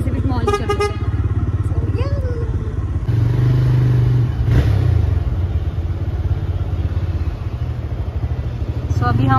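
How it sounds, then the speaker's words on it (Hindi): A motorbike being parked outside Pacific Mall, its engine rumbling steadily close by with a brief horn-like tone midway, while people talk over it throughout. "अभी हम अपनी बाइक पार्क कर रहे हैं।"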